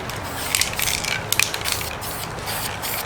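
A spray can hisses rust-colored paint onto an antique Alcosa forge in a steady, close, continuous spray with faint crackling and small clicks.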